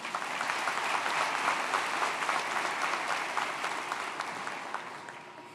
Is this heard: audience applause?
yes